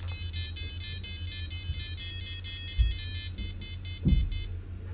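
A Sharp PC-1500 pocket computer plays a polyphonic chiptune of rapid, repeating high beeping tones over a low buzzing hum, with a few soft knocks.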